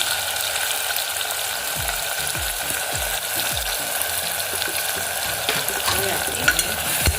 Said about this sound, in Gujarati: હવે આપણે એને હલાવી દઈશું।